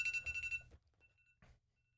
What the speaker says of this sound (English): I literally could not have timed the accidental alarm going off